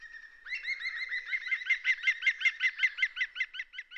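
Green woodpeckers call in spring woodland, a clear, fast, rhythmic series of repeated chirping notes that grows louder and more insistent, heard alone with no other sounds.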